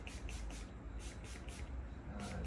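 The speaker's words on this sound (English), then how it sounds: "So spraying this rust free on here." Several quick hissing bursts from a spray can of rust remover onto metal, close up and fairly quiet, repeated in an uneven rhythm.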